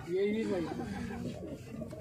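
Pigeons cooing close by in soft, rolling low calls, with someone talking over them, in Rajasthan.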